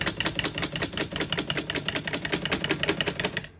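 Rapid, even keystrokes strike on a 1926 Corona Four antique portable typewriter, a steady close-up clatter of sharp mechanical clicks with no talk.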